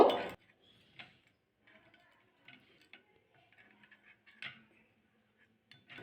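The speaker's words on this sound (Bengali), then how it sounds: "সামান্য জল অ্যাড করে দেবো ভালো করে মশলাটা গুলে নেবো" A spoon clinks and taps in a small bowl while Kashmiri chilli powder is mixed with a little water into a spice paste, giving sparse, light, close ticking sounds separated by quiet gaps, with a louder knock at the start.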